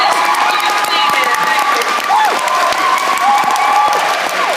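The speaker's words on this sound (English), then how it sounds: "Give yourselves a round of applause." An audience at a poetry event in the Roundhouse, London, applauds with dense, continuous clapping and some cheers and whoops mixed in, loud and sustained throughout.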